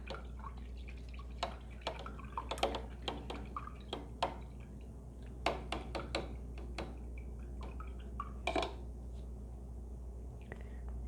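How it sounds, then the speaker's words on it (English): A paintbrush is rinsed in a water container during acrylic painting: close, quiet drips, taps and small splashes come in an irregular scatter over a low steady hum, with no talk. "now I'll rinse this brush out"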